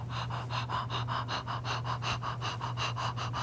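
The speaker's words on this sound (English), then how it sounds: "and pant." Rapid, steady panting runs through the whole stretch as part of a breathing exercise for singers, with quick rhythmic breaths in and out over a constant low hum and no talking.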